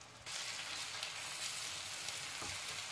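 Ground coriander, turmeric, salt and Kashmiri red chili powder fry in a pan for a green peas dal, a steady, close sizzle that swells to a bright hiss after a quiet first moment and holds evenly throughout.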